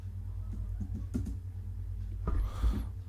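Typing on a computer keyboard while setting up an SSH server on NixOS: scattered soft key clicks in short bursts, close by, over a low steady hum.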